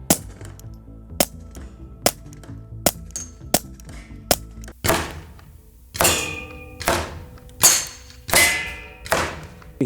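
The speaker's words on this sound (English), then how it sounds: "we got 22 shooting on wood" .22 caliber rounds striking wood: a string of sharp, evenly spaced cracks, then several heavier impacts with longer ringing decays, loud and close with no talking.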